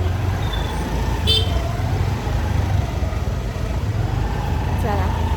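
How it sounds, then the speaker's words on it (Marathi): Heavy road traffic rumbles steadily near a coastal town in Malvan, Konkan, with a couple of short car horn toots over the continuous engine noise as someone talks nearby. "सध्या इथे आता खूप ट्रॅफिक आहे"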